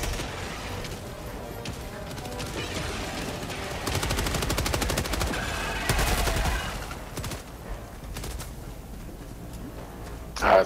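Automatic gunfire in Helldivers 2, aimed at aliens, fires in a loud, steady rapid stream that peaks in the middle with heavy impacts, then fades into distant battle noise.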